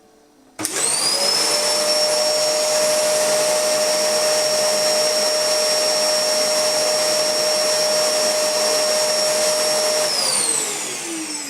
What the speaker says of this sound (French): tout dépend de la position du téléphone par rapport à la proximité du moteur de l'aspirateur